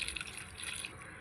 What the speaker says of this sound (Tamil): வாங்க அப்போ என் செடி தண்ணி ஊற்றலாம்